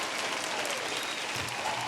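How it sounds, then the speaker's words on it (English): A steady round of applause from a small group, dense and continuous for a couple of seconds at moderate level with no talk over it, during a gaming-focused podcast segment. "let's just give a round of applause for the gaming section"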